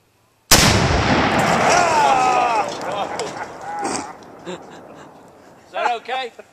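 A G3 rifle shot sets off a tannerite explosive target in one sharp, loud blast that rolls away in a long echo, followed by faint voices talking.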